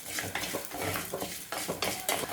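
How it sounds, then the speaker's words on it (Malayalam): Toor dal and coriander seeds dry roasting in a pan for Thiruvananthapuram-style rasavada, heard as close, repeated scraping and clinking of a spoon stirring against the metal pan, with a faint sizzle beneath. "നമുക്കൊന്ന് വറുത്തെടുക്കണം വേണ്ടത്."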